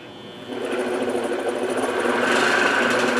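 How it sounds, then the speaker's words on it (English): Wood lathe spinning as a roughing gouge rounds off a wooden mason jar lid blank, giving a steady whirring hum with a rough, scraping cutting noise that grows louder partway through. "I'm going to use my roughing gouge just to kind of start rounding this thing off"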